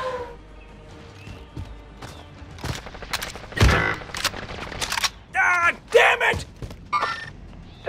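Gunfire in a battle royale video game, scattered shots and heavier bursts of varying loudness, with voices talking over the fighting.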